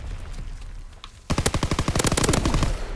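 PPSh submachine gun firing in a Call of Duty video game: a sudden loud burst of rapid automatic fire that breaks out after a quiet stretch and runs continuously to the end.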